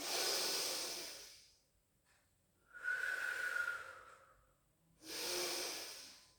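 Slow, deep breaths during a pilates stretch: a long airy exhale, a pause, a hissing inhale, then another full exhale, each close and clearly audible with near silence between them.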